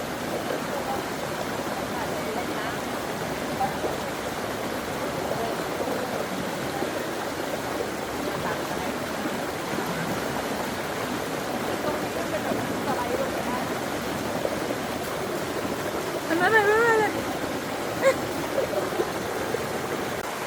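Ton Phrao waterfall in Krabi, Thailand, pours with a steady, dense rushing of water that fills the whole scene, with a few faint brief sounds rising briefly above the constant flow near the end.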